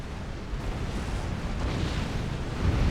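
Nuclear missiles being intercepted by strategic missile defense in the strategy game Supreme Commander, heard as a continuous rumbling barrage of explosions and booms that swells louder toward the end.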